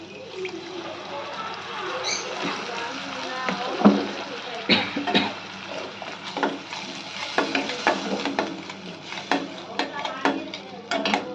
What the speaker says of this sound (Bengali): আমরা বাকি মশলাপাতি দিয়েও ভালো করে কষিয়ে নেব।